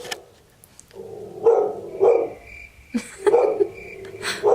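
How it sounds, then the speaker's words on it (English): Several pet dogs bark indoors in a series of loud, close, separate barks spaced about half a second to a second apart, with no talking. "My dogs are barking."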